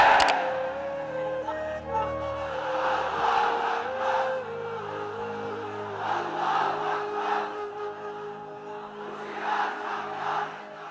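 A large crowd at an Islamic sermon roars back in unison to a preacher's call, a massed chant swelling in several loud waves, dense and reverberant.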